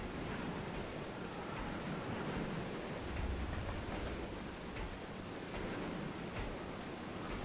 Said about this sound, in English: And this storm weather is exceptionally loud.